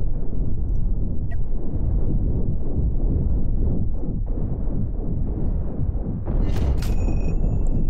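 Spaceship weapons firing in the space combat game Cosmoteer, a steady dense rumble of booming shots with a bright crackling burst near the end, loud and without speech.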